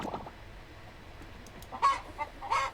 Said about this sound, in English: Oh, and I pet the same chicken.